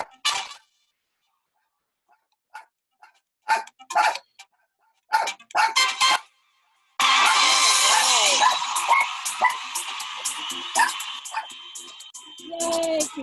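A pet dog barks indoors: short, sharp barks scattered through the first stretch, then a burst of frantic, continuous barking and whimpering that carries on loud and close to the end.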